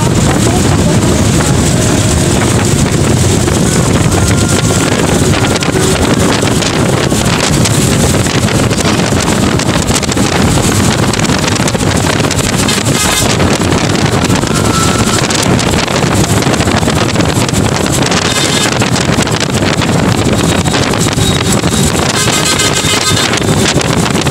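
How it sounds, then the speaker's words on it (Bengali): Wind roaring against the microphone on a moving train crossing a rail bridge after rain, a loud, constant buffeting rush that fills the whole stretch with faint rattles underneath. "পুরাটাই ছিল বাতাসের শব্দ"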